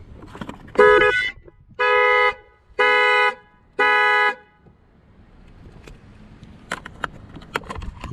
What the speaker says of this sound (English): don't be afraid of alarm sounds, it's fine.